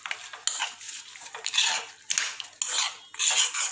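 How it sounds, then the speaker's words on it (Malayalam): Cooked mutton being mixed into masala in a pan, a series of rhythmic metal spoon scrapes and clanks against the pan, close and fairly loud, each stroke a short burst. "ഇനി ഇതിലേക്ക് നമുക്ക് വേവിച്ച് വെച്ച മട്ടൺ ചേർക്കാം. നന്നായി മിക്സ് ചെയ്യാം."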